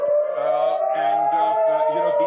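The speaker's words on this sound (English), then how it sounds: "as I speak you can hear the air raid sirens going in" A sustained air raid siren in Israel during the Israel-Iran conflict wails in a steady, slowly wavering tone that holds loud throughout, with no break in the sound.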